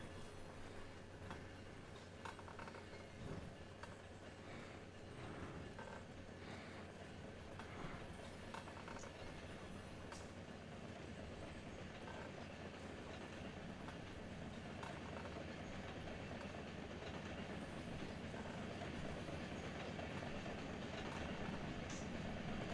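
A freight train in the Run8 Train Simulator video game, running as UP YBK50, rolls along in a low, steady, continuous rumble with faint clicks and rattles, quiet and distant-sounding throughout.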